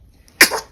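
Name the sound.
sneeze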